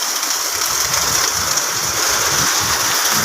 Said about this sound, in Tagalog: ang lakas ang ulan oh